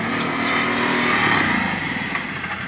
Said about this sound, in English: So the next run will be on the wet asphalt with a silver bike with ABS as comparison.